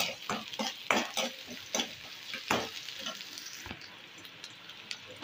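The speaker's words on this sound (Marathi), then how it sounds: "कांदो घालता तितून आनी 2 हरव्यो मिरसांग्यो घेतल्या चिरून त्यो घालता आनी मातशें तळसून घेता." Onion, chopped green chilies, garlic and ginger fry in a pan for a Goan vegetarian thali, crackling softly with repeated scraping stirs of a spoon against the pan.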